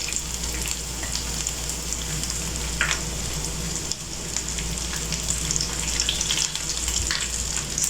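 Egg kebabs frying in hot oil in a home kitchen, a dense, steady sizzle and crackle with a few brief sharper pops, close and continuous with no voices.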